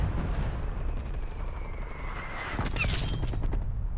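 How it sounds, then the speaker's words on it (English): Artillery strike in Call of Duty Cold War: a dense, rumbling barrage of explosions and crackling impacts swells toward the end, with sharp bursts layered over a constant low roar. "I did not mean to put that artillery strike there"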